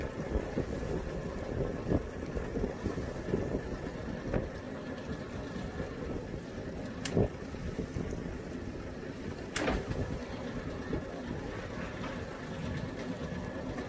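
A sailboat's inboard engine idles steadily in forward gear while docking, a low continuous drone under wind buffeting the microphone, with a couple of brief sharper knocks and no talking.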